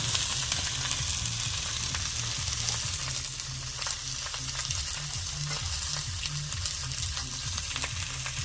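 Whole spices and ingredients for mutton kaliya sizzle steadily in hot oil, a continuous close crackle with a low bubbling undertone and occasional brief clinks, no talking.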